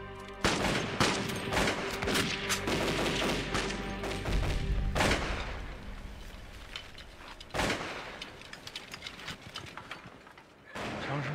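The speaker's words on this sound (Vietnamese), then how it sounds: "Tiếng súng phát ra từ bên kia." Loud gunfire from an anti-Japanese war action film, with dense bursts of shots and sharp blasts running nearly continuously, punctuated by a few heavier booming impacts.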